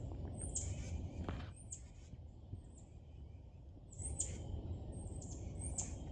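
Sharp, high bird chirps come in short clusters, repeated a few times over a steady outdoor rumble, somewhat distant.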